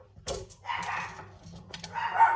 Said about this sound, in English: Wouldn't be one of my videos if the dogs weren't barking, would it?